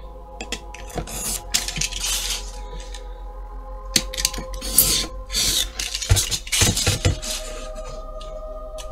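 An off-cut piece of craft foam is cut for a Halloween ruin model. Irregular close crunching and snipping comes in uneven bursts over a low steady hum, without talk.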